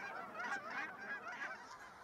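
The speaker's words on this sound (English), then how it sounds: "flocks of migrating Canada geese have arrived" Canada geese honking in a migrating flock, several rapid overlapping nasal honks heard faintly at a distance over about two seconds.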